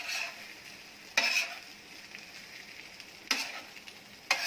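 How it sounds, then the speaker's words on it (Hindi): Tawa pulao vegetables, peas and capsicum, are mixed into rice on a hot tawa, a soft sizzle broken by three sharp scraping strokes of the spatula, close and with no talking. "अब इनको अच्छे से मिक्स करेंगे चावल के साथ।"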